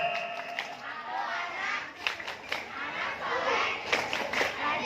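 Children at a community celebration for Indonesian Independence Day and the Islamic new year clap along to the tepuk anak soleh chant, a loose scatter of hand claps amid crowd chatter and voices.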